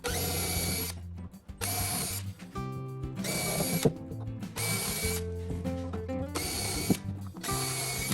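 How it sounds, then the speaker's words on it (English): A drill bores pilot holes through a wooden drawer front in a shed workshop, whirring in several loud bursts of about a second each, separated by short pauses and clicking ratchet-like mechanical sounds. "I'm just drilling some holes through, just so we've got some pilot holes to go into the drawer front"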